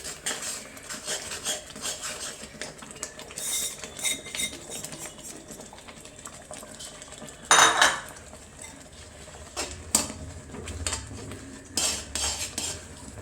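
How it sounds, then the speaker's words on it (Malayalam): Semolina stirred continuously with a spatula in a pan while making upma, producing repeated metallic scraping and clinking against the pan, with one louder rattle midway, over a quiet background. "റവ ഇടുന്ന അനുസരിച്ച് നമ്മൾ ഇങ്ങനെ ഇളക്കിക്കൊണ്ടിരിക്കണം"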